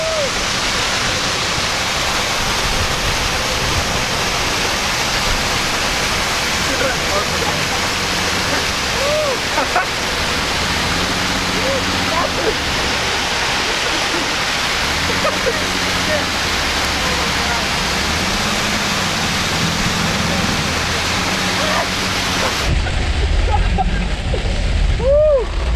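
Heavy rain and road spray roar steadily around a convertible BMW driven with the top down, a dense wash of water noise with low engine rumble underneath and voices talking over it.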